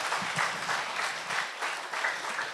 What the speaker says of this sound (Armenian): Մի հատ բարձր ծափահարենք